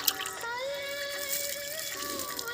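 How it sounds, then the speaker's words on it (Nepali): Water poured onto dry soil while planting, a soft steady trickling and splashing, faint and close, with no talk. "पानी चाहिँ प्रशस्त मात्रामा दिनुपर्छ"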